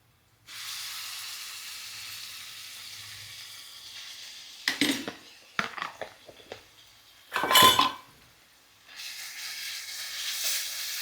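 Black garlic paste is added to a cooking pan, with a soft hiss, a few clattering knocks of a utensil against the pan, and a brief louder sizzle near the end.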